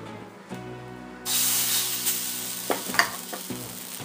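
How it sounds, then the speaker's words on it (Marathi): Edhni batter hits a hot oiled griddle with a sudden loud sizzle that swells and holds, followed by a few sharp taps and clinks of utensils near the pan; quiet before the pour, no voices. "आता हे जे तयार करून घेतलेलं बॅटर आहे हे ह्या तव्यावर घालायचं"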